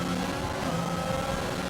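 Steady onboard engine drone of a McLaren Formula 1 car in a racing video game, high and continuous with no gaps, heard alone.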